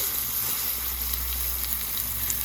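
Ground garlic chutney frying in a pan tempered with mustard seeds and curry leaves, giving a soft, even sizzle and hiss close by, with no voices.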